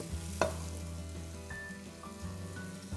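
Onion and garlic sweating gently in a pan for a seafood paella, a soft, steady low sizzle with a faint clink near the start and no talk.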